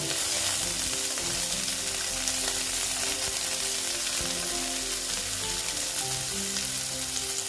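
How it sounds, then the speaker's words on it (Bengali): Sliced bitter gourd fries in hot oil in a pan, a dense continuous sizzle with a low steady hum and faint stirring clicks underneath. "সেগুলো আমি ভালো মতন ভেজে নেব"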